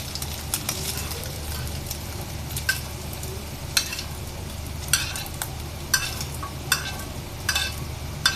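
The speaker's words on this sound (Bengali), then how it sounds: "আমার ডিমগুলো ভাজা হয়ে গেছে," Eggs frying in a pan make a constant crackling sizzle, broken by regular sharp clacks of a utensil stirring and scraping, close and fairly loud.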